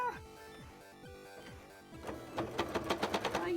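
Sewing machine stitching a zigzag seam in cosplay fabric, first a few slow separate runs, then a steady, louder burst of rapid repeated stitching near the end.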